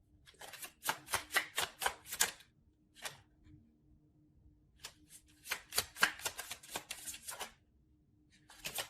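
Tarot cards being drawn and shuffled in quick bursts of crisp riffling and slapping, a flurry early on, a lone snap near the middle, then another dense run of shuffles, fairly close with no talking.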